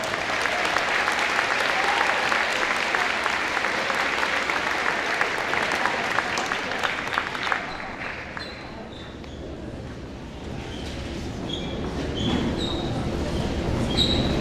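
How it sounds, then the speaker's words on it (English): An audience at an 8th grade promotion ceremony applauds a choir with loud, sustained clapping that dips slightly midway and then swells again, with no talking heard. "Now let's give them one more big round of applause."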